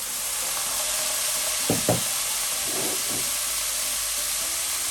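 A tablespoon of Chinese cooking wine hits a hot pan with a steady close sizzle and hiss. A couple of short clinks or stirring knocks come through partway in, and no one speaks.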